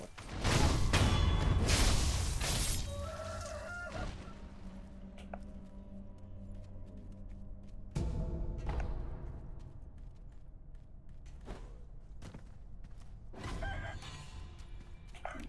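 A turkey-like bird gobbles in Sekiro during the Mibu Village area, with loud fowl-like calls near the start over game ambience, followed by quieter scattered cries and effects.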